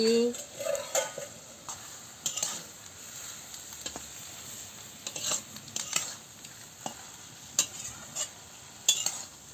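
Banana stem curry in a pan being stirred after the lid comes off, with an ongoing soft sizzle and scattered metallic scrapes and clinks of a spoon against the pan, close up, with no talk.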